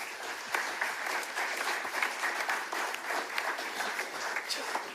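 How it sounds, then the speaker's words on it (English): A room of people at a SailGP opening press conference gives the ten sailing athletes a round of applause, moderate and sustained clapping with small swells throughout and no talking. "A round of applause, please, for the 10 athletes."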